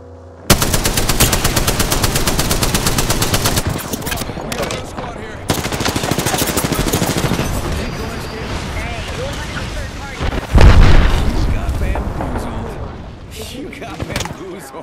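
Rapid automatic gunfire in the Apex Legends video game during Mirage gameplay: loud, sustained bursts of machine-gun fire with short pauses, a heavy impact near the end, and game effects behind it.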